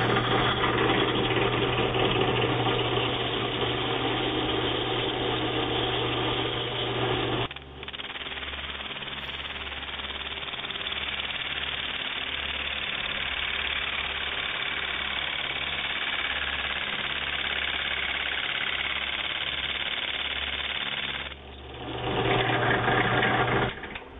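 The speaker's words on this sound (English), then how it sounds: "I've got the fly cutter in the drill press, and I'm just going to run it" Fly cutter spinning in a clamped drill press, a steady loud motor drone with a dense buzzing whir that drops briefly in level midway, then swells again near the end.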